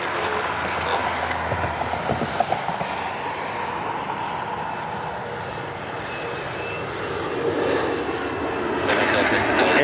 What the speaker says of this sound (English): Here's the CRJ.